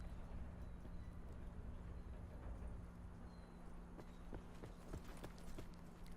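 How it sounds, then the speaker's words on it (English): Enemy player's footsteps in the video game Black Ops 4 Blackout, a run of soft rhythmic thuds on the ground over a rumbling ambient background, faint and at a middle distance. "If you notice, you can hear his footsteps."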